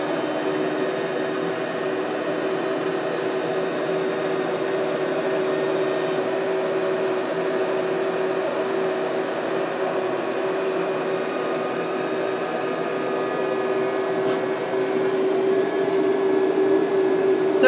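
A Dremel Digilab 40-watt laser cutter hums and whirs steadily as it boots up and runs its system check, with a constant fan-like drone and a faint tonal whine rising toward the end.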